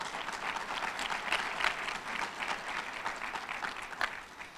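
Sustained audience applause at a community recognition event, steady dense clapping from a room full of people throughout, fairly distant with no one speaking over it.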